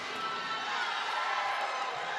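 Volleyball crowd at the Spikers' Turf 2019 Reinforced Conference finals chanting for Cignal HD near championship point, a dense, sustained roar of many voices filling the arena.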